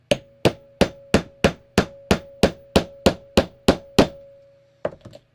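A hammer taps snaps onto a homemade fidget mat: about a dozen sharp, evenly spaced strikes, close and loud, then a short pause and a couple of softer knocks.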